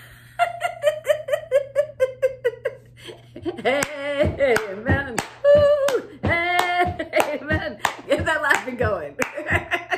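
A person claps hands in a steady run of sharp slaps while laughing and giggling, the claps and laughter close and loud, with a low hum underneath.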